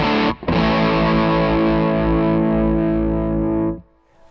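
Pierrot Pug Fuzz guitar pedal with its right eye knob turned fully up, giving a thick, saturated fuzz chord that rings loud and sustained for over three seconds before cutting off abruptly.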